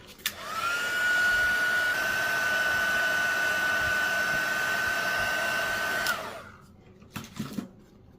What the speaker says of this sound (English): And then you heat it up with your heat tool until it's nice and shiny.